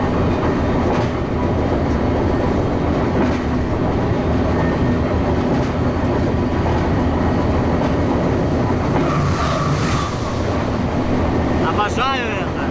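A freight train rolls along the rails from New York toward Chicago, a loud constant rumble and rattle heard from aboard, with metallic squeals and a brief screech near the end.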